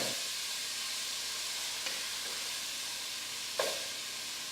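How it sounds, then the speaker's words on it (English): Diced onion sautés in a pan with a steady, close sizzle and hiss, and a couple of brief stirring scrapes rise above it. "I'm just going to get those sauteed up until they're tender."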